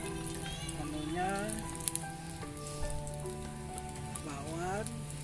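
Tofu, tempe, vegetable fritters and chicken frying at a mountain campsite at Gunung Bunder, giving a steady close sizzle that continues under people talking.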